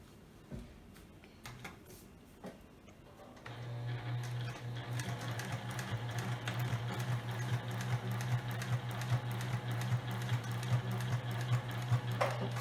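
A sewing machine stitches fabric seams for a storage box, starting after a few handling clicks and then running in a loud, steady mechanical hum with a rapid needle rhythm close to the microphone.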